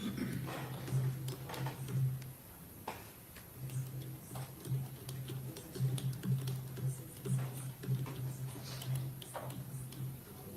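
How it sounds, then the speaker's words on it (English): A judge typing on a computer keyboard in a courtroom during a trial, with rapid, loud clacking keystrokes in irregular bursts and short pauses, heard close and alone. "That's a judge typing like that."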